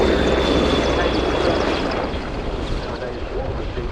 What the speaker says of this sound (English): the final pass from the Leonardo AW101 Merlin, Mark 514 of the Portuguese Air Force's Esquadra